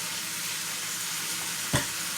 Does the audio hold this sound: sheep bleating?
no